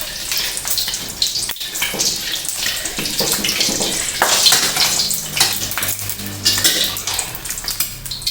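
An egg frying in hot oil in a pan, being prepared for American fried rice, sizzles loudly and steadily with scraping of a spatula and clinks of utensils throughout.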